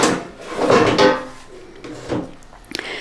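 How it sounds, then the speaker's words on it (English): Plastic drawers of a Ninja Foodi Max dual zone air fryer scrape and clunk as they are pulled out, with a few light knocks and a sharp click near the end. "So I'm going to pull these drawers out now."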